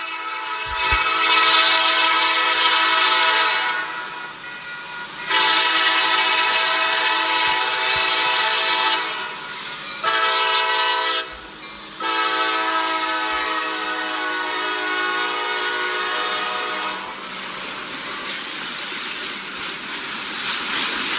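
Lake State Railway locomotives roll past close by with a loud, steady rumble of engines and rail cars, their horn sounding in long sustained blasts that swell and fade over about twenty seconds.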